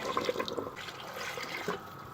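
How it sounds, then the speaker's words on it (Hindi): Water splashes and pours steadily into a pot of cooking aloo gosht (potato and meat curry), a continuous trickling wash of liquid with no voices. "इस स्टेज पर हम इसमें पानी शामिल करेंगे"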